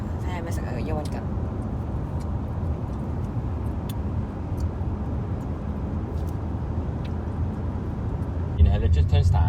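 A car drives along the road from Liechtenstein toward Zurich, a steady low road and engine rumble from inside the cabin that continues under people talking.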